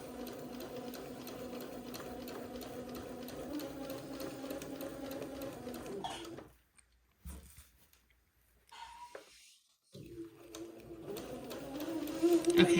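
A sewing machine stitches a row of scallops along a hem of a Christmas bishop dress, running steadily for about six seconds, then stopping for pauses while the fabric is pivoted, before the stitching resumes.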